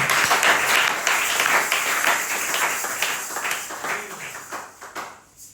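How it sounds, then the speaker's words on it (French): Steady, dense applause from a church congregation praising the Lord during a French-language sermon, many hands clapping loudly and continuously before tapering off toward the end. "Et applaudissez le Seigneur"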